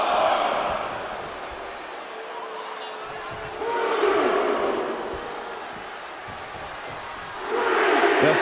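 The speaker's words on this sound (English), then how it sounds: "The sound of this crowd is deafening, and he's asking for more." Roaring arena crowd from the WWE 2K24 wrestling game during a John Cena US Open Challenge, swelling in loud waves that rise, dip and surge again, with a brief tonal call in the middle.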